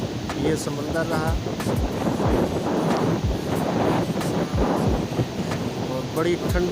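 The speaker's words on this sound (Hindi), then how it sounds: "और बड़ी ठंडी हवा चली है।" Cold wind gusting along the seaside at evening, with rough waves; a steady loud roar of wind buffeting the microphone, broad rumbling noise throughout with someone talking over it.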